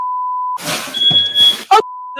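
A building fire alarm, tripped by smoke from cooking, gives a steady electronic beep tone that cuts off while other sounds and a brief voice-like burst pass, then resumes loud and close.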